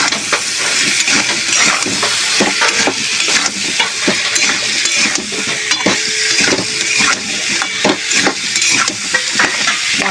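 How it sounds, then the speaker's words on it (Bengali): Potato and taro chunks are sautéed in a spice paste with ground cumin. A loud, close sizzle runs throughout, with frequent rhythmic spatula scrapes and clanks against the pan and no voices. "মশলাটার সঙ্গে ভালো করে একটু আলু কচুটা কষিয়ে নেব"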